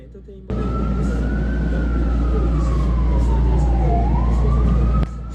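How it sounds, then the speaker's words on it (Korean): A wailing ambulance siren sweeps slowly up and down over a steady low rumble of New York City traffic, loud and continuous as if passing nearby on a street. "숙소에 있으니까 앰뷸런스 소리가 끊임없이 들리더라고요"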